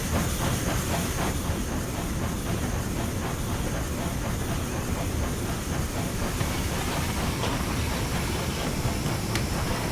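An Austerity 0-6-0 steam locomotive in Train Simulator Classic chuffs in a steady, rapid rhythm, heard loud and close from inside the cab, with constant hiss and rolling wagon rumble running beneath.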